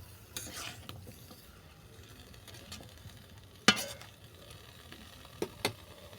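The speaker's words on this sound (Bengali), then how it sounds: "লাউ শাকটা সবজির সঙ্গে ভালো করে মিশিয়ে নিলাম" Bottle gourd greens being stirred with mixed vegetables in a pan for a vegetarian chorchori, a faint low sizzle under scattered scraping strokes, with a sharp louder clack near the middle and two more toward the end.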